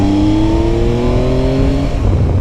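Yamaha Tracer GT motorcycle's 120-horsepower CP3 three-cylinder engine pulls hard under acceleration while riding, a loud, steady rising engine note with close wind rush and no talking.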